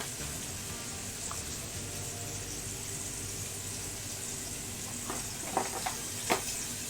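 Ground meat seasoned with onion powder and cumin sizzling in a pan, a soft continuous fry hiss with a couple of sharper scraping stirs near the end, fairly quiet and close.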